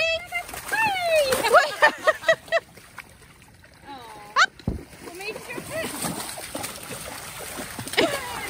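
Spaniels splash into water on a dog walk, with loud splashing and sloshing through the middle, excited yelps and whines over it, and people talking and calling throughout.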